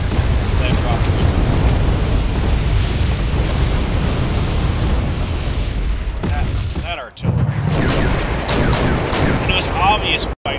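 Video game artillery shells fire and explode, a dense continuous roar of booms and blasts that briefly drops out before the shelling resumes, loud and close.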